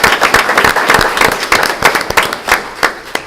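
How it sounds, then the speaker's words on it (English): A room of attendees at a school board meeting claps loudly for central office and department staff, a brisk, close burst of many hands with uneven sharp claps throughout. "one last round of applause for our Central Office and department staff"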